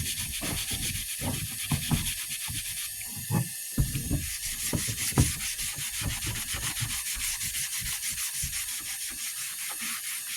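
A rusty axe head is scrubbed by hand without power tools, rapid close rhythmic rubbing strokes that repeat steadily throughout, with occasional sharper scrapes.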